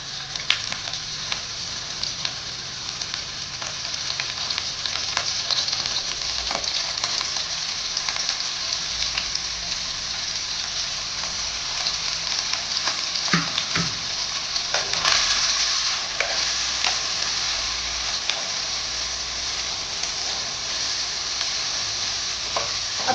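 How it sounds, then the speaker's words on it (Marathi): Finely chopped onion frying in hot oil for pav bhaji, a steady, loud, bright sizzle that carries on without a break, with a few faint clinks of stirring. No one speaks. "तेल गरम झालेलं आहे त्यामध्ये हा आपण बारीक चिरलेला कांदा टाकून घेऊया"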